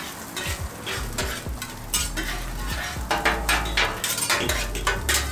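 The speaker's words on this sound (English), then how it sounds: "So essentially what we're doing here is we're infusing the garlic with the oil. We'll go ahead and put some butter." Butter sizzles steadily in garlic-infused oil on a hibachi griddle for scallops, with a loud continuous frying hiss and occasional stirring scrapes and metal clinks of utensils throughout.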